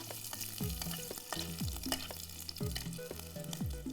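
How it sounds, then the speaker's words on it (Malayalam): Sliced onion fries in hot oil for a Madurai-style fish curry, a quiet crackling sizzle with repeated falling tonal swoops, likely from a fan or ventilation, running steadily beneath, close and with no voices. "എണ്ണ ചൂടായി വെച്ചാൽ അതിനകത്തോട്ട് ഇച്ചിരി സവാള"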